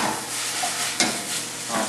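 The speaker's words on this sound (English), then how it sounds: "Sounds like I need to toss my onions a little bit." Onions sizzle and are tossed in a hot pan while a pizza topping is prepared, a steady frying hiss with a few soft scraping stirs, close and without talk.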